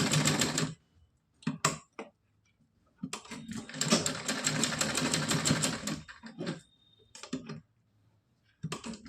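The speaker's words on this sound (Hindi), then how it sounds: "फिर यहाँ पे हम सिलाई को डबल करेंगे" A sewing machine stitches a cotton night dress for a Laddu Gopal idol, running in several short bursts and one long steady run of rapid mechanical clatter, with brief pauses between them.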